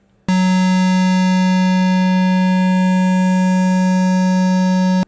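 A synthesizer sine wave shaped into a square wave with the filter off sounds as a loud, buzzy, harmonically rich steady tone that starts abruptly and holds unchanged for about five seconds before cutting off.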